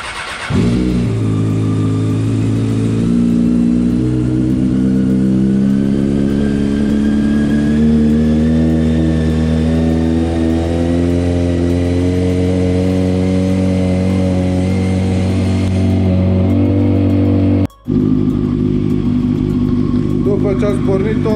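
A motorcycle engine, checked before the riding season, cranks and fires up close by, then holds a steady, loud idle with a few revs before cutting out briefly near the end and restarting.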